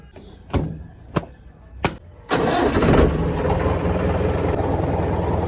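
A tractor engine cranks with three sharp turnover bursts, then catches and settles into a loud, steady diesel chugging idle.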